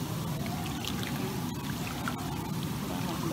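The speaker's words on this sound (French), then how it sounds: "Désolée pour le bruit du jacuzzi." A jacuzzi runs with a steady, broadband rush of bubbling, churning water that stays even throughout and is fairly close.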